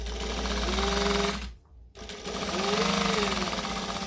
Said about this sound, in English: Stitching up and back stitch.